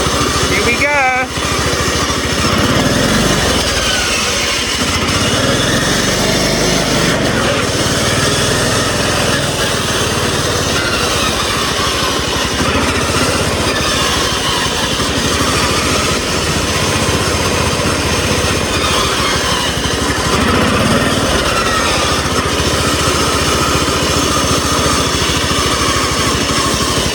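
A homemade racing lawn mower engine drones continuously and loudly while being ridden, a high, buzzy small-engine roar holding steady with slight surges, and speech heard intermittently over it.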